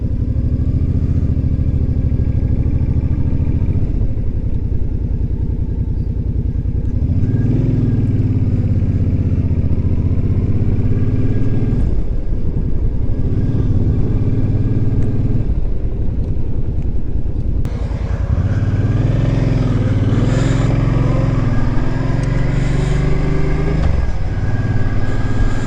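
A motorcycle engine rumbles close and steady during a ride, rising and falling in pitch as it pulls away, shifts and slows, with clattering road noise underneath and no voices.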